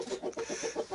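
Luxury hens in a henhouse cluck in a steady run of soft, rhythmic murmurs, close by and moderately quiet, with no voices over them.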